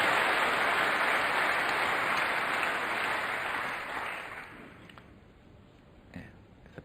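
Applause from a snooker crowd at the Masters final fills the arena, loud and dense at first, then thinning and fading away into a few scattered late claps.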